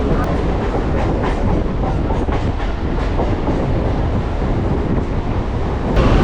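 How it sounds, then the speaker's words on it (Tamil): A suburban train rumbles steadily into Tambaram railway station near Chennai with a loud, dense roar and faint rhythmic clatter of wheels, heard from inside the carriages. "இப்போ ட்ரெயின் தாம்பரம் ரயில்வே ஸ்டேஷனுக்குள்ள என்ட்ரி ஆகுது"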